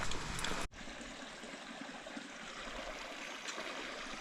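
Water from a trail water source along the Appalachian Trail in Vermont streams and trickles steadily, a close, continuous broadband rush with a brief dropout near the start.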